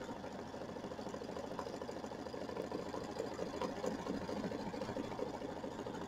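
Sewing machine running a triple stitch on a quilt block, a steady rapid mechanical whir and needle chatter, even and continuous at moderate distance with no talk.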